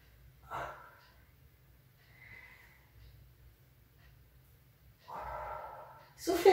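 Breath is pushed out during a yogalates exercise, a few breathy exhales spaced apart, close and moderately loud, with a voice starting at the end.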